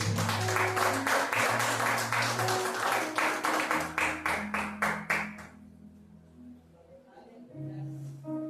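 A church congregation clapping in rhythm during a prayer service, steady claps over sustained music and voices, fading out as the music continues.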